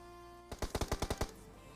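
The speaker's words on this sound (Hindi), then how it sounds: "अरे कौन अरे गोली कौन चला रहा है?" Rapid burst of about eight AKM gunshots in the PUBG battle royale game on the Erangel map, loud, evenly spaced and sharp, with no talk over it.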